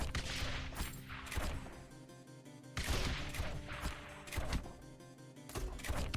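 Mortar towers in the tower-defense game Rogue Tower fire in bursts of booming, crashing shots, a dense volley followed by a second wave, loud and alone with no talk.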